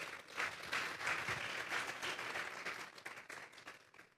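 A church congregation applauds during a worship service, dense continuous clapping for a few seconds that stays fairly quiet and distant.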